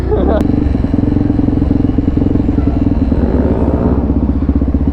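A scooter engine runs close and loud through a street ride-out in New York, a steady rumbling drone with rhythmic pulsing and clattery mechanical texture throughout, joined by a brief sharp knock near the start.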